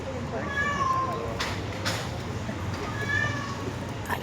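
A cat meows several times during an outdoor rescue, with harmonic cries near the start and again toward the end, over steady background rumble and occasional bursts of noise.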